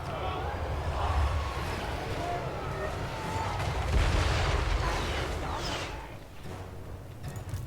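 Gunfire and artillery boom in a Total War Warhammer III battle with Chaos Dwarfs, a dense rumbling barrage of blasts and shots that swells and fades, with someone talking over it.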